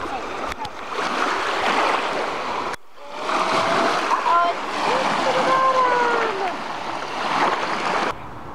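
Waves splash and wash steadily onto the Lake Michigan shore in a broad, close surging rush that breaks off briefly, under a person talking.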